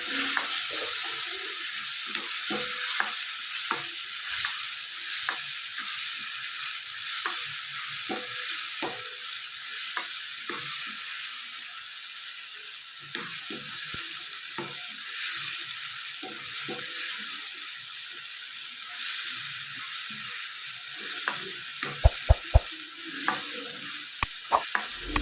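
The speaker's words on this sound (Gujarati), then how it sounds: "ડુંગળી, લસણ અને સાથે સાથે ટામેટા પણ નાખી દઈશું. સરસ મિક્સ કરી લઈએ." Onion, garlic and tomato frying in a pan with cumin, giving a steady soft sizzle throughout, broken by frequent scraping stir strokes and a few sharp utensil taps near the end.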